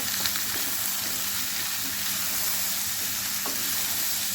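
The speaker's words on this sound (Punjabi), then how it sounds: "ਤੇ ਹੁਣ ਅਸੀਂ ਇਹਦੇ ਵਿੱਚ ਪਾ ਰਹੇ ਹਾਂ ਮੂਲੀਆਂ ਕੱਟੀਆਂ ਹੋਈਆਂ" Chopped radishes sizzle and fry steadily in a pan for Punjabi radish sabzi, a continuous close hiss with a few faint clicks of stirring and no talk.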